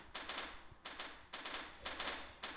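Rapid bursts of automatic gunfire from a weapon in the survival video game Last Day on Earth, with about five clattering volleys separated by short pauses, loud and close.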